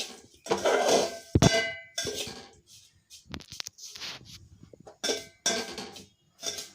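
Semolina roasts over low heat while a metal spoon stirs and scrapes the pan, giving intermittent clanks, clinks and scratches separated by short pauses.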